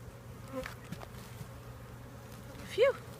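Bees buzz around an open beehive on a farm, a low steady drone close by. A single insect briefly flies near and rises sharply in loudness toward the end.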